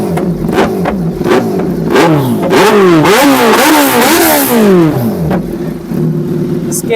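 A 2025 Kawasaki Z900 motorcycle engine is revved repeatedly up and down, close and loud, with rising and falling throttle blips before settling back to a steady idle.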